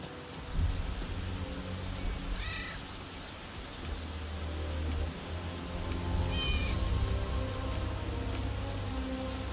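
A cat meows twice in the Gamedec video game, short rising cries spaced a few seconds apart over a steady low ambient hum and faint buzzing.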